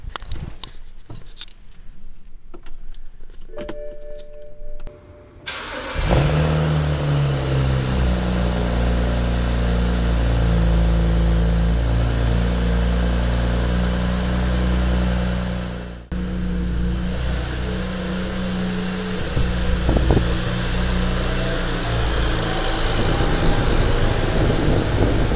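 A BMW 335 with the N54 engine, fresh spark plugs and coil packs fitted, is heard as a brief clink and rustle, then the cranking starter catches and the engine settles into a loud, steady close idle for the remaining twenty seconds.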